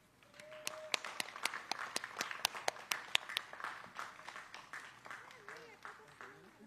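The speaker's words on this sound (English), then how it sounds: "Please give a round of applause" An audience claps steadily, sharp individual claps building then tapering off, while a voice speaks faintly underneath.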